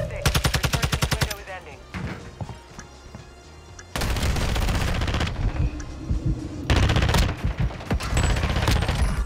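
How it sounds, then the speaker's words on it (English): FFAR assault rifle fire in a first-person shooter, loud rapid bursts of automatic shots with a steady rhythm at the start, then dense overlapping gunfire and explosions from the game continuing throughout. "I was too busy shooting this guy"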